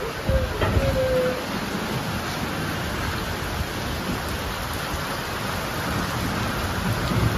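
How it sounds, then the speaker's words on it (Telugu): Heavy rain falls outside, a dense continuous hiss and wash of noise that holds steady and loud throughout, with a brief faint whistle-like tone near the start. "మొత్తం బయట మొత్తం వర్షం రచ్చ రచ్చ అవుతుంది"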